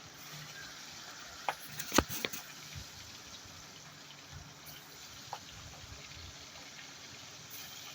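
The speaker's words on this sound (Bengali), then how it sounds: "তেল গরম হয়ে গেছে, আমি মাছগুলো একে একে দিয়ে ভালো করে ভেজে নেব" Pomfret fish frying in hot oil in a wok, a steady low sizzle throughout with a few sharp clatters and pops near the start, close and fairly quiet with no talking.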